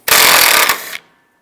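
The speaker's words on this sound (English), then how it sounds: "Take the bolt off right here, use a 12mm socket." A power tool with a 12mm socket spins a bolt off a 2010-2015 Toyota Prius near the bumper in one loud, close whirring burst of about a second, then stops abruptly.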